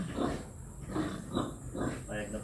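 A pig grunts in a steady series of four or five low, rhythmic grunts at close range, with possible voices mixed in.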